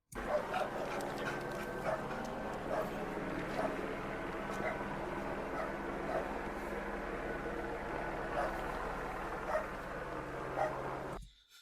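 A police K-9 dog barks and whimpers repeatedly during an LAPD suspect search, its sharp barks recurring at irregular intervals over a steady background hum.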